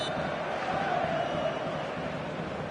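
Passionate crowd filling a football stadium on a clear evening before a showcase game, a dense, steady roar that stays loud and unbroken throughout, with no individual voices standing out.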